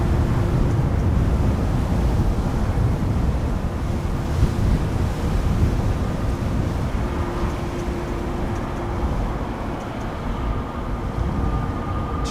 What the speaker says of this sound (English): Crosswind is increasing.